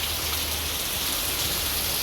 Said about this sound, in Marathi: आणि पाऊस थांबत नाही बघा, सकाळपासून धोधो पडतोय.